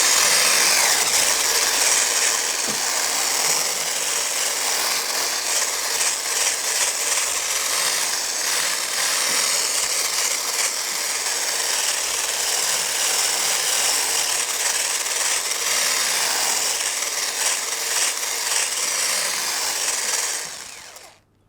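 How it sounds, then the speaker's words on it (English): An electric mixer blends crunchy coconut biscuit dough after an egg is added, a loud, steady whirring drone that runs unbroken for about twenty seconds before cutting off abruptly. "I'm going to mix that till it's all blended."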